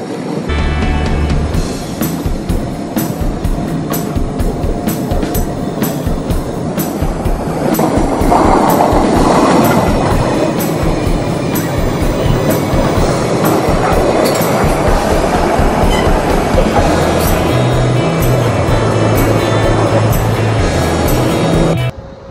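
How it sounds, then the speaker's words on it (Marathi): A Mumbai–Pune Express train rolls into a platform at Lonavala station, a loud continuous rumble of wagons with rhythmic wheel clatter and occasional squeals, close by throughout. "प्लॅटफॉर्म क्रमांक 5 वर आलेली गाडी 1007"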